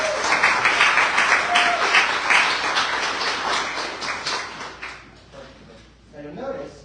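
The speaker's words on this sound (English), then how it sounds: "You guys give a round of applause." An audience at a live performance breaks into applause, a dense burst of clapping that swells for about four seconds, then fades as a voice speaks over the tail.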